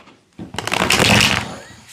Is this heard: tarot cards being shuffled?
yes